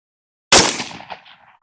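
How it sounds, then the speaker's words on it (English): A single sharp M4A1 rifle shot fired at a silhouette target 100 yards away on an outdoor range, loud and close, followed by a short decaying echo. "Let me just shoot this last one."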